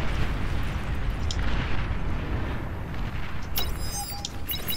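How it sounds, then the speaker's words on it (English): Explosions in the real-time strategy game Beyond All Reason during an 8v8 match on the Sulfur Springs map: a continuous loud, dense rumble of overlapping blasts, with a few sharp electronic pings and pops near the end. "All these explosions are kind of loud to me"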